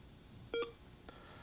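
A Canon Navigator HD40 desk telephone system from 1990 auto-dialing a number, giving a short pair of close dial tones followed by a brief fainter tone, with no talking.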